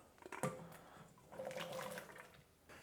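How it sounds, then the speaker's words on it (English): Carrots dropped into a pot of already boiling water, a quick splash and plop followed by a faint bubbling churn, quiet and close. "Now we're gonna add them to water that's already boiling."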